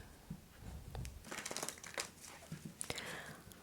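Tarot cards being shuffled live for an angel-message reading, giving quiet crinkly rustles and soft slaps in irregular bursts, close and low in level, with faint breathy whispering mixed in.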